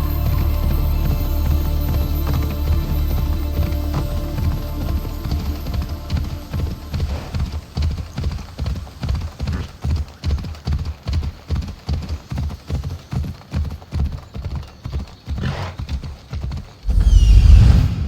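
Horse galloping in Assassin's Creed Odyssey, a fast rhythmic series of heavy hoofbeats that grows more distinct and evenly paced, close and loud, ending in a louder burst.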